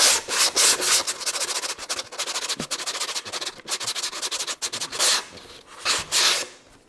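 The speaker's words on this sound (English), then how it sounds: "I'm just going to gently sand the inside of the airframe tube" Sandpaper rubs back and forth inside a model rocket's airframe tube in irregular strokes, a hissy scraping that pauses briefly between bursts, close up.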